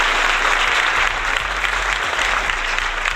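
Loud, dense crowd applause fills the whole stretch at a steady level, a continuous wash of many hands with no pauses and no voices on top.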